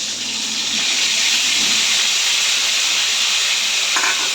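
Spice paste of ground ginger, turmeric, cumin and coriander frying in a pan in a home kitchen, a loud continuous hissing sizzle that stays steady throughout, close up with no talking.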